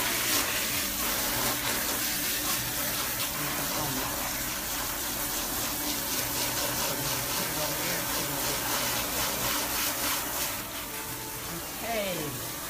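Water runs steadily from a tap over a bleached hair closure being rinsed, a continuous gushing splash that fades slightly near the end.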